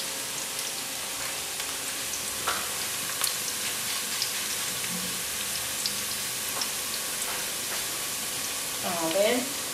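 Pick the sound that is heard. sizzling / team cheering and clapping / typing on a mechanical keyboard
sizzling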